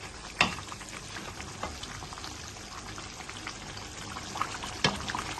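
Chicken karahi with yogurt sizzles steadily in a pan, with a continuous frying hiss and a few sharp spatter pops and clicks, fairly quiet and heard alone.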